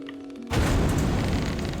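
An exploding bow item from the video game Fable Anniversary goes off in one sudden, loud booming burst that stays dense and roaring after a quiet lead-in, with no voices over it.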